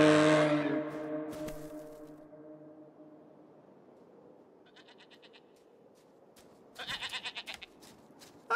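A goat bleats loudly at the start, then fades into a quiet stretch, followed later by a short run of rapid, stuttering bleats, all close and with no talking.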